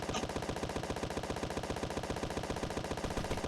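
Autocannon fire from a spaceship in the space combat game Space Engineers, a fast, steady stream of sharp, evenly spaced shots that holds at one loud level for the whole stretch.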